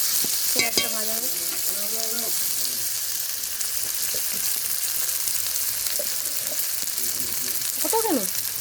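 Onions fry in hot oil with spices and sugar, a constant close sizzle as a spoon stirs the pan, with brief bits of speech over it.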